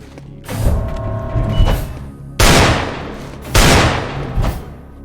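Video game gunfire from the Devil rifle and the M7, with a burst of rapid shots followed by two loud, sharp volleys that ring out and decay, over mechanical clanks.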